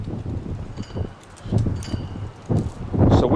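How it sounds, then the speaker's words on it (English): Strong, gusty wind blowing outdoors, buffeting the microphone in loud rumbling bursts that rise and fall over a few seconds. "Since our wind speeds have increased,"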